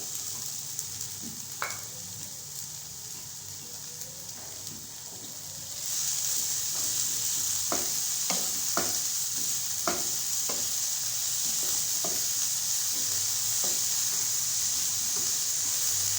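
Chicken hits hot pan with tomato-free masala for a sandwich filling: steady frying hiss that jumps louder around six seconds in and continues broadly, with scattered clicks and scrapes of stirring, no voices.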